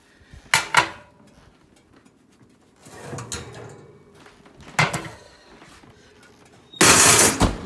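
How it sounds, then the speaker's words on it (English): Cake pans being taken out of an oven, with several separate metallic clanks and scrapes of pans and racks, then a loud rushing whoosh near the end. "I'm going to take them out of the oven."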